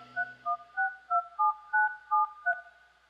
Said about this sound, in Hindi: हम भी एक फोन मिलाते हैं आज